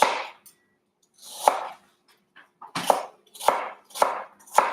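Knife chopping apple slices into cubes on a board during a children's cooking session for a nutty fruit crumble: five or six sharp, separate thuds at an uneven pace, close and fairly loud, with no talking.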